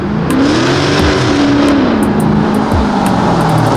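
Dodge Charger Scat Pack engine revving loudly up close, a continuous deep rumbling roar with rising and falling pitch throughout.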